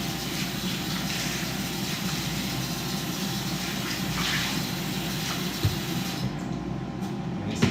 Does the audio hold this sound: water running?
yes